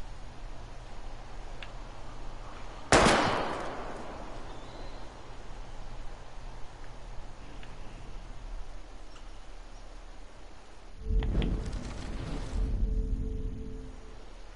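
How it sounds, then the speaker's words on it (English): Shooting at bottles in the video game Life is Strange, one sharp, loud gunshot cracks out and decays quickly, followed much later by a broader, rumbling burst of impact noise. "We're gonna shoot all these bottles without wasting a single bullet."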